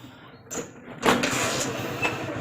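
A car door thuds, then a motor revs and hums steadily close by, with a faint mechanical whir under the idling engine.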